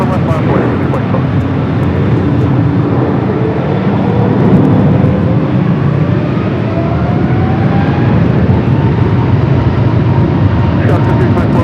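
Aircraft taking off from LAX runway 24 left: a loud, steady jet engine roar with rising and shifting tones that holds throughout, with no talk.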